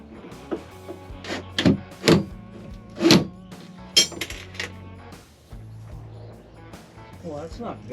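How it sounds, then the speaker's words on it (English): A drill bit drops into a corner of a van and gives several short metallic clinks and rattles up close, mixed with a person talking and some handling noise. "I lost my bit down in the corner."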